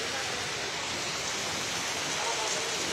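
Steady rain falls beside a temple courtyard in Himachal Pradesh, a dense, even hiss throughout at moderate distance, with no other sounds standing out.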